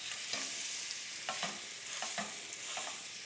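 Ground lamb sizzles steadily in a hot pan, pressed flat into a patty, with a constant crackling fry broken by a few louder scrapes and stirs.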